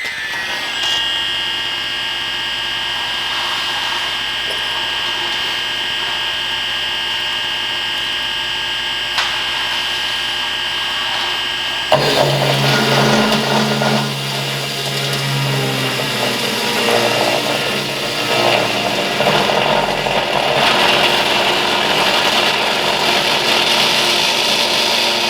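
Metal cold saw retrofitted to three-phase power on a variable frequency drive, coolant running: a steady motor hum gives way around midway to a louder, grinding, broadband cutting roar that continues to the end, with no talking.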